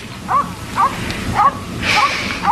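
A dog left outside on a cold night barks in repeated sharp yips, five close, loud bursts spaced about half a second apart.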